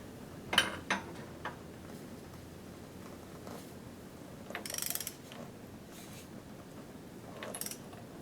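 A wrench torques a nut to 29.5 foot-pounds on a BMW 540 V8 engine during timing work: a few sparse, quiet mechanical clicks and ratcheting ticks with long quiet gaps between them.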